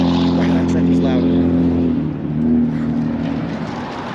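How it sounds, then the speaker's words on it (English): A loud truck passes close by on a city street, its heavy engine drone rising and then easing away, while someone talks over it. "Wow, that truck is loud."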